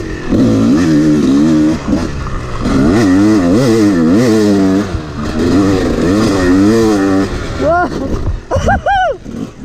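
A motocross dirt bike rides a difficult track, its engine revving and wavering loudly up and down with the throttle, close and continuous, with a brief dip before rising again.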